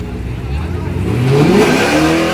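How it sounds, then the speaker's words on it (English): A drag race car revs hard through a burnout at a Memphis street-racing event, its engine pitch climbing steadily over a dense roar of wheelspin, loud and close with crowd noise mixed in. "Okay, he know how to do a burnout."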